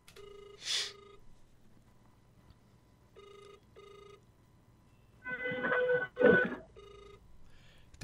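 A phone call rings out through the handset in repeated electronic ring bursts separated by pauses, with a louder, busier stretch of tones near the end; the caller is waiting for it to be picked up.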